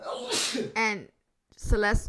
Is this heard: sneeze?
yes